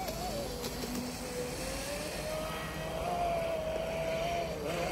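A remote control boat's motor whines steadily on the water in Europe, a thin droning tone that slowly rises and falls, fairly faint and continuous without speech.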